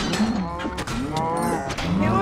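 Cows lowing in the video game Minecraft Dungeons, several loud overlapping moos one after another, close and continuous with no talk.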